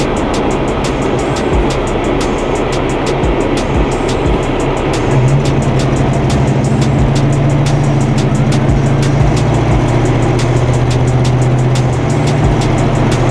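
A 1984 Chevy Caprice pulls away and shifts through its gears, a steady loud engine drone with a low tone that rises and settles midway, heard from inside with no talking.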